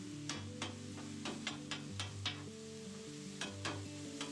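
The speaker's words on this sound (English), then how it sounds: "I'll start sweeping it back and forth across the griddle" Taco meat with spices sizzles steadily on a hot griddle while a spatula scrapes and sweeps it back and forth, producing a string of sharp, rhythmic scraping strokes over the constant frying hiss.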